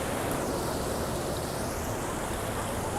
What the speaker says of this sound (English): I love this water feature.